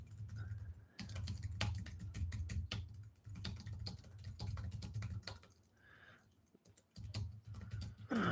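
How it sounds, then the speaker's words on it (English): Typing on a computer keyboard, a steady patter of close key clicks running in bursts with brief pauses throughout. "I'm just typing in."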